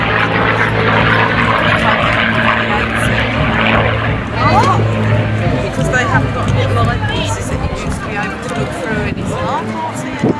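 A P-51D Mustang with its Rolls-Royce Merlin engine drones steadily at an Essex military vehicle rally, a loud sustained roar that shifts slightly midway, with crowd chatter and nearby voices mixed in.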